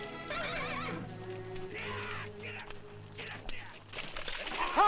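A horse neighs several times amid clopping hooves, with people talking over it throughout.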